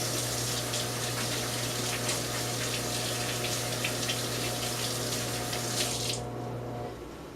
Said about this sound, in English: So let me wash my hands quickly.